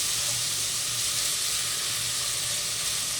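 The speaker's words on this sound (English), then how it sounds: "saute because I want the pepper to release its flavor" Pepper sautéing in a soup pot for pasta fagioli gives a steady, close, bright sizzle that holds evenly throughout with no voices.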